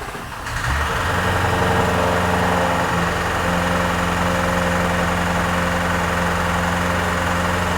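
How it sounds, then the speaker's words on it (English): A Jaguar F-Type SVR, a non-runner, cranks and churns steadily as it tries to start, loud, near and continuous with a low droning rhythm. "It's trying to start, but doesn't."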